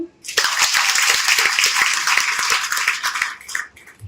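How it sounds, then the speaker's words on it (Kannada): Audience at an award ceremony honoring high-scoring students breaks into sustained, dense applause with many hands clapping together, swelling quickly and holding steady for several seconds before tapering off. "ಚಪ್ಪಾಳೆ"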